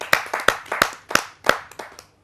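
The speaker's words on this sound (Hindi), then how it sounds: "धारे हुए युवा साथी दिनेश दीक्षित संघर्षी को, आप सबकी जोरदार तालियों के माध्यम से।" A small audience at a Hindi poetry gathering claps in loose uneven bursts, several sharp close hand claps spaced roughly a third of a second apart, fading out at the end with no talk.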